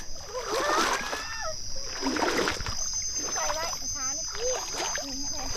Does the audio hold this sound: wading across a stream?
yes